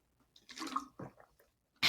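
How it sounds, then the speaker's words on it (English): Close-up gulping and swallowing of water, a few wet sips and swallows in quick succession, ending with a short splashy burst. "As I drink my water."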